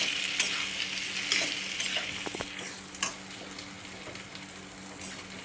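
Masala okra (bhindi) sizzles steadily in a pan while a spoon stirs it, scraping and tapping now and then, close and soft with no voices.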